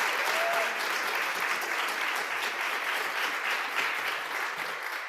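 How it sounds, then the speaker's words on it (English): Sustained audience applause fills a community innovation event, steady and dense with many hands clapping together at close range, holding level throughout with no voices on top. "Everybody give them a big round of applause."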